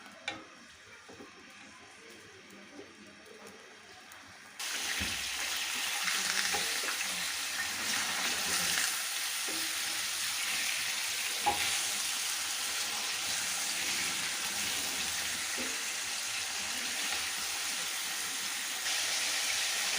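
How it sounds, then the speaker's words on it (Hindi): Chicken frying in oil in a karahi over a high flame, a loud steady sizzle that jumps up sharply a few seconds in as the pieces hit the pan, then a continuous crackle with occasional stirring clinks and no talk. "चिकन को ऑयल में फ्राई करेंगे ताकि इसका कलर जो है वो चेंज हो जाए।"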